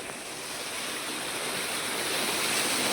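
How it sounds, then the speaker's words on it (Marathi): Water driven by a motor pump pours into an open well, making a constant, loud rushing splash that swells slightly toward the end, with no talking. "या विहिरीमध्ये पाणी पडत आहे"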